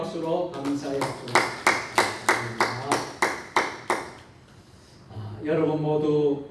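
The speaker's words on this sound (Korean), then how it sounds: "하나님께 영광의 박수로 감사의 박수로" A church congregation at a midweek worship service claps in unison, about a dozen sharp rhythmic claps in a steady beat that then fade out, followed by a preacher speaking.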